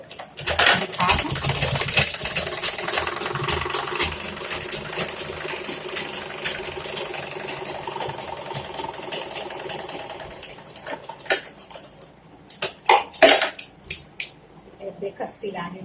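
A sewing machine stitching a blouse seam runs in fast, steady bursts close by, with clinks of metal and handling noises breaking in toward the end.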